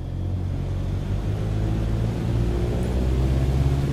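Aircraft engine in Microsoft Flight Simulator 2020 throttling up, a steady low droning rumble that swells slightly louder toward the end, heard alone without talk.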